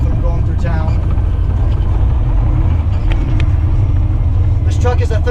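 A semi truck with a 13-speed transmission slows on approach to a town, its engine a loud, steady rumble close by, with someone talking throughout.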